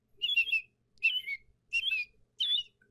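A man whistles an imitation of an American robin's song: four clear, separate warbling phrases, each about half a second long, with short silent gaps between them.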